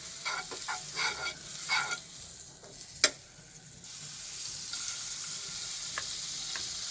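Butter sizzles and spits on a hot tawa pan, a soft continuous frying hiss with scattered crackles and one sharp pop, close by and without speech.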